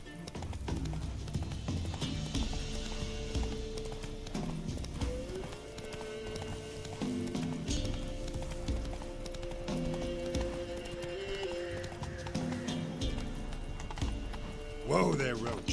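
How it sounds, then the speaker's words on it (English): Horse hooves clip-clopping in a video game, a close, rhythmic run of hoof beats with a brief whinny, under a voice speaking. "Whoa there, Roach"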